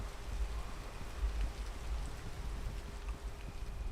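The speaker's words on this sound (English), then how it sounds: "let's wait till it stops raining" Rain in the video game PEAK makes a steady, even hiss with a low rumble underneath, continuous and moderately loud throughout, with no speech.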